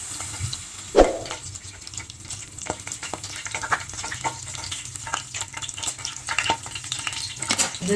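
Whole spices, cinnamon, cloves and similar, sizzle and pop in hot oil in a pan for vegetable biryani, with a sharp crackle at the start, then steady close frying with stirring clinks and scrapes.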